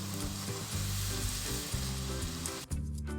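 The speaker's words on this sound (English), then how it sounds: "After a minute, add the carrot cubes and stir." Carrot cubes stirred in a hot pan with celery for a creamy chicken soup, producing a steady close sizzle with faint stirring scrapes and a low background hum, no talk.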